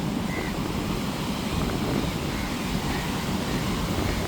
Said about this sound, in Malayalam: അങ്ങ് ദൂരെ പോലും കടൽ ഇളക്കി മറിയണേ കാണുന്നത്.